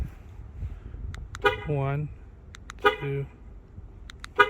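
An Infiniti QX60 gives short horn toots as it is locked by remote, each chirp brief and close by, between which a man counts aloud.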